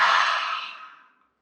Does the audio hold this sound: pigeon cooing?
no